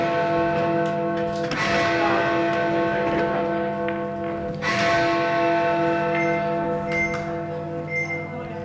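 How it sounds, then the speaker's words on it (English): A bell tolls at a snooker six-red shootout during a Pro Series 2024 match, its sustained ringing tones layered and steady throughout, fairly loud and close with no talk over it. "The bell tolls"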